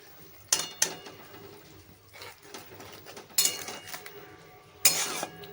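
Mustard paste being added to a pan of cooking poppy-seed dish: clinks and scrapes of a utensil against the pan in several brief bursts over a soft background, close by, with no talking.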